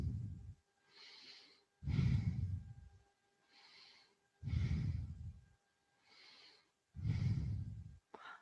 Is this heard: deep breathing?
yes